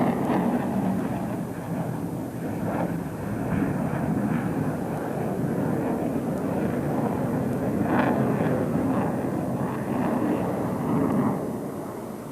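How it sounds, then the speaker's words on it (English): An F-16A fighter jet of 311 Squadron flies a display at the 1993 International Air Tattoo air show. Its engine gives a steady, broad roar that holds at a moderate distance for the whole stretch. "This F-16A is from number 311 Squadron."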